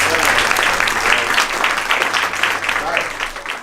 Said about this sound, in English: Give her a lovely round of applause,